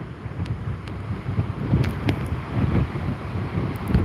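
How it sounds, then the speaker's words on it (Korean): Typhoon Bavi batters the Jeju coast: strong wind roars across the microphone as big waves surge and crash nearby in rolling, uneven bursts, loud and continuous. "실제로 보면 정말 무섭습니다 파도가"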